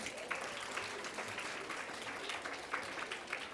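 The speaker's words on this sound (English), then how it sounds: "Can we have a round of applause for our 4 panellists?" A modest room at a business roadshow breaks into steady applause for four panellists, a faint, even patter of many hands clapping without cheers or voices.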